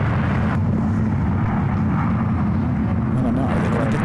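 Airliner jets at SFO airport, a continuous deep rumble of engines roaring steadily in the background while people talk over it.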